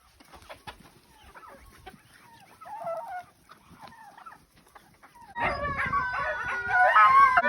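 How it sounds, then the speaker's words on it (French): Sled dogs at feeding time in Lonquimay, first scattered, then a loud chorus of howls and yelps that erupts midway and fills the rest of the clip, close and sustained. "on va nourrir tous les chiens et normalement ça fait pas mal de bruit"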